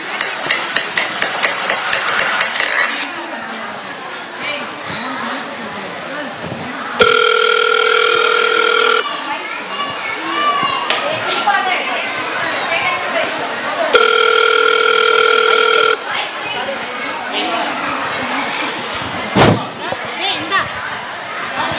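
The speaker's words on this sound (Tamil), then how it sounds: "யாராவது இந்த நேரத்தில் ஃபோன் அடிக்கிறா?" A phone rings in two long electronic bursts, with rapid beeping at the start and noisy street and engine sounds in between, at a roadside with a vehicle stopped.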